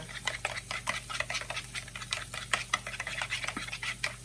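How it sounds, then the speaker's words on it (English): Egg mixture seasoned with cracked black pepper being whisked in a bowl for bacon breakfast roll ups, a steady run of quick, close clicking and tapping strokes at moderate volume with no talk. "And then I'm going to whisk it all together."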